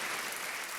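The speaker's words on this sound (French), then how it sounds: "Je pense qu'on peut vous applaudir chaudement." Warm applause from an audience at an evening mentoring event, a steady wash of clapping through the whole short moment with no pauses.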